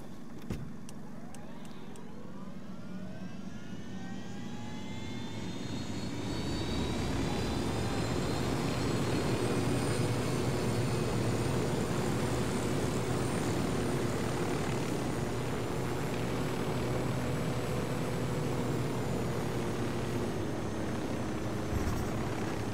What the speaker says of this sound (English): Go back in my helicopter.